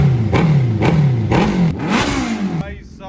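A Suzuki Hayabusa motorcycle fitted with an Akrapovic aftermarket exhaust revs hard in repeated loud blips, about four sharp rises and falls in quick succession, then cuts off abruptly near the end.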